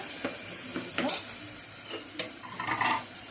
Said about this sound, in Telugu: టమాటా వేసి బాగా మగ్గనివ్వాలి. టమాటా ఇలా మగ్గిపోయింది.